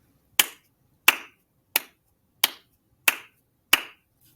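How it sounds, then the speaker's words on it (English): Six sharp hand claps, evenly spaced about two-thirds of a second apart, each a crisp close slap with a short decay, heard alone in a quiet room. "I'm going to clap my hands 6 times"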